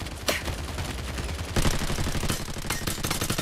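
Gunfire in the video game Lost Light, with several sharp sniper rifle shots cracking over a dense, loud backdrop of continuous battle noise.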